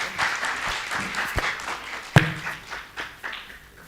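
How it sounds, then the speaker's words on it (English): Scattered audience applause at a university science and agriculture postgraduate research day, a thin patter of clapping from a modest crowd with a few sharper individual claps, fading out toward the end. "Let's give her a round of applause"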